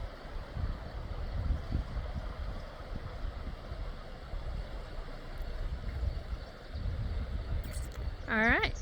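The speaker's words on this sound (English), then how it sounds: "I can definitely hear the water flowing from here" Water flowing in Camp Creek makes a continuous broadband rush heard from a distance, steady throughout, with a brief chirping bird call near the end.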